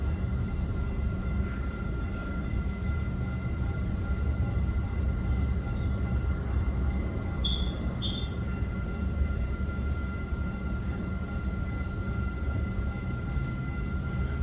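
A Caltrain commuter train pulls into Tamien Station in San Jose, heard from inside as a steady low rumble of wheels and motors with faint tonal hums, and a couple of brief high squeals partway through.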